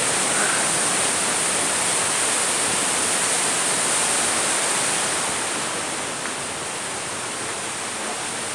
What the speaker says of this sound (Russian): Здесь уже река течет тише.